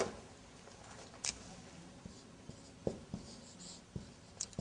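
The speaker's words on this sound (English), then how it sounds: "I will write down here" Chalk or marker scratching on a classroom board during an Arabic grammar lesson, a string of soft taps and short strokes spaced unevenly over a quiet room, with no speech.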